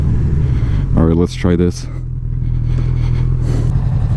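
A 2018 Honda CB1000R motorcycle engine rumbles steadily and loud throughout, with a person talking briefly over it early on.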